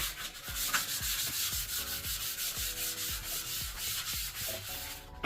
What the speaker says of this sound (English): And now let's begin with removing the wax.